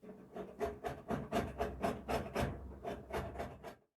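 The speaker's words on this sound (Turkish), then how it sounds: "Şimdi limonların kabuklarını rendeledik." Lemon peel is grated on a kitchen grater, a close, rhythmic series of about a dozen rasping strokes at a steady pace, heard alone.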